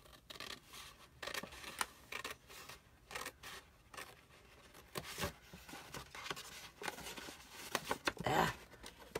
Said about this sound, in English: I'm going to cut right down that folded line.